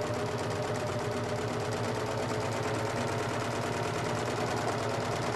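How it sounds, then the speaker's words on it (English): A serger sewing machine stitches fabric with a loud, continuous, rapid mechanical chatter, steady and close throughout with no talking. "And just do the serging."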